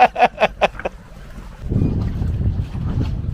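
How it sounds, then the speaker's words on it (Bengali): Small wooden rowboat pulled through open water, the start marked by a few rhythmic knocking strokes before a steady rush of water and wind takes over. "সুচিদা কিন্তু এই মুহূর্তে নৌকার চালক"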